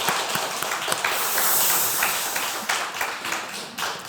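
An audience at an evangelism camp claps together, a dense, continuous patter of applause that swells and fades over a few seconds.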